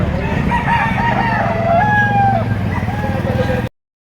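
Roosters crow at a chicken market in Lipa, Batangas, with several drawn-out, overlapping calls rising over a steady, busy murmur of background noise.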